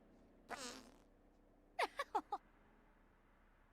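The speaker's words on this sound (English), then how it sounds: "Where are you going to fart?" A Sims character breaks wind in The Sims, a rough rumbling burst followed moments later by a quick string of four short, sharp puffs, fairly loud and close against a quiet background.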